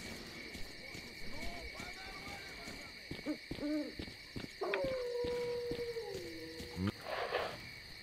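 Dogs howl and yelp in S.T.A.L.K.E.R. Clear Sky, several rising and falling howls overlapping over a steady hum of game ambience and music, with one long drawn-out howl near the end.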